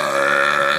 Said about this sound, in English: Burp number 1.